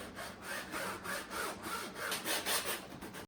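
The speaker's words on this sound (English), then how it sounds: "Then after that, we will scrub the surface." A surface is scrubbed during cleaning after being sprayed with water, in repeated rubbing strokes that sound close but fairly soft.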